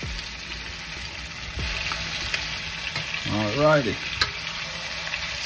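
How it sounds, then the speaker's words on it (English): Chicken pieces sear and fry in a pan of bright yellow curry gravy, a steady close sizzle with a brief stirring scrape and a short spoken remark over it. "you want a quick sear on the outside, and then you want it to boil in the curry gravy"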